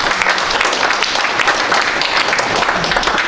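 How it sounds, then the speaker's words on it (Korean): Applause from a symposium audience welcoming a guest doctor being introduced, a dense, steady wash of many hands clapping throughout, fairly loud and close. "박수로서 환영해 주시고 고맙겠습니다"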